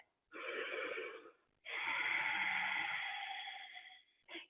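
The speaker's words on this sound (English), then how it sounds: "Keep noticing your breath" Slow, deep yoga breaths in a quiet room: a long airy inhale, a pause, then an even longer exhale with a slight wheezy rasp, ending on a short final breath, close and alone.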